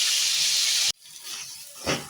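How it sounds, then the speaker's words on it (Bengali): Cauliflower florets sizzling in hot oil in a kadai: a loud, steady broadband hiss that cuts off abruptly, then returns quieter and crackling, swelling again briefly near the end. "ওই তেলেতে এবার ফুলকপিগুলো ভেজে নেব।"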